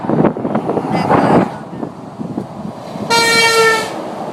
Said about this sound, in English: Honk for Satan